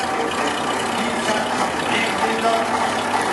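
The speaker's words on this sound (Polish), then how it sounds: "Jak tam mu wcześniejszy zapłon, silnik dostaje wyższe obroty." A 1930 BMW Dixi engine runs at a steady, throaty pitch, close and fairly loud, without clear changes in speed.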